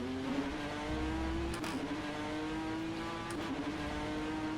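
A BTCC NGTC touring race car in the rFactor 2 racing sim drones at steady high revs, its engine note holding nearly level with slight dips in pitch, continuous and alone.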